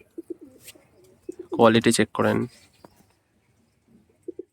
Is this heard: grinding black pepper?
no